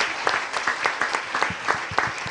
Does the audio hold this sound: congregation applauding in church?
yes